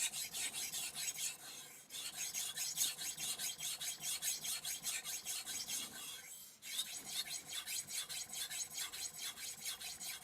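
A steady, gritty rasping of a Moritaka Aogami Super knife stroked back and forth on a 3000-grit vitrified diamond stone with very light pressure, in an even rhythm with a brief pause, close and fairly quiet.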